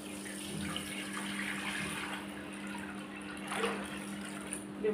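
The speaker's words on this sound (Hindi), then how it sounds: "ये मैं थोड़ा सा पानी डाल लीजिए।" Water running and splashing steadily as a little is poured during a DIY project making a corner stand from an old empty paint bucket, a continuous faint wash with a slight swell near the end and no talking.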